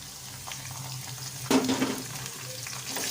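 Ginger and green chilies frying with potatoes in a pan for aloo methi sabzi, a steady soft sizzle with a burst of louder crackling midway as the ingredients are stirred, no voices.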